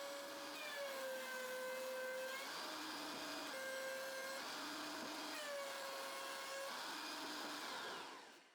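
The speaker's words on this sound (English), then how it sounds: "on the planer, with the jointed face down, I get all the parts plain and equal in thickness." A thickness planer feeding wood offcuts, running loud and close with a continuous whine whose pitch dips and recovers each time a board passes through, over dense cutting noise that stops near the end.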